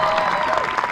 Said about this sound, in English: One more round of applause for our 2 champions.